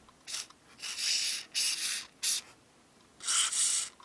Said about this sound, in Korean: 이렇게 뿌려주시고 처음에 이렇게 좀 꼼꼼히 청소를 하시고 뿌리시면 이 오일이 금방 날아갑니다